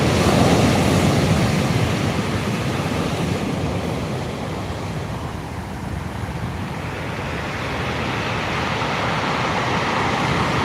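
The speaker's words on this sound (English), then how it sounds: "The waves sound absolutely amazing." Sea waves break on the shore during a kayak sea-fishing outing, a loud continuous roar of surf with wind buffeting the microphone, swelling and easing slightly over the stretch, with no voices.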